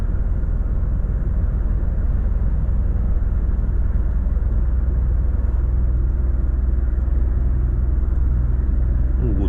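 Volvo FH 540 truck cruising in 11th gear at about 1000 rpm, a steady low, loud engine drone and road rumble heard from the cab, continuous with no breaks.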